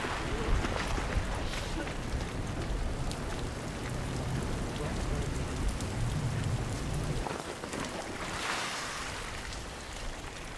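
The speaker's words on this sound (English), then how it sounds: "The rain's still sheeting down" Heavy rain sheets down outdoors in strong wind, a dense steady hiss of drops hitting surfaces that fills the whole stretch, close and loud, with a brief gust-like swell near the end.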